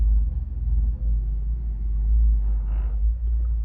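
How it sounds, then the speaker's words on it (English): A loud car drives down a residential street, a heavy low rumble that swells and fades as it passes, with a faint higher whine near the end and no voices. "Who the fuck is driving that loud ass car down my street?"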